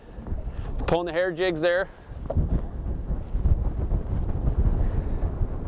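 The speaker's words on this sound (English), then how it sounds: "That wind is something else." Strong wind buffets the microphone on open lake water from a Crestliner boat during rough conditions, a steady low roar lasting throughout, with someone talking briefly near the start.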